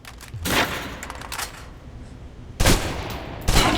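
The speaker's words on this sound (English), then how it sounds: "Still using cover, take some shots at the target." Bursts of gunfire aimed at a target in the video game Alpha Protocol: loud rapid volleys come in two clusters, with a quieter stretch of scattered shots between them.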